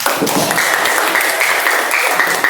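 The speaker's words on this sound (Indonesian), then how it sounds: "Tepuk tangan untuk kita semuanya." Loud, close applause from a group of students in a school classroom, dense continuous clapping with a few voices cheering and shouting over it throughout.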